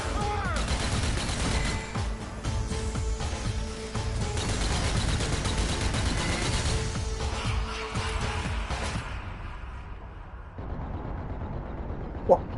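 Video-game gunfire crackles in dense, continuous bursts, with booming blasts and rocket-like explosions layered over the first nine seconds before thinning out. Players talk over the barrage.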